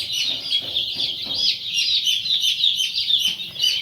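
A flock of native desi chicks, around a month old, chirps constantly at close range: dense, overlapping high-pitched peeps with no pauses and no talk.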